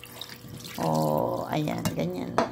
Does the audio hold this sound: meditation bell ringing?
no